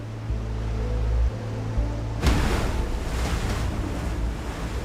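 Ocean surf crashes onto a beach where penguins come ashore, a low rumble giving way to a loud broad wash of breaking waves with wind noise, no voices.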